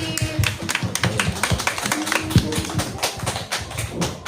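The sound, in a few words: audience applause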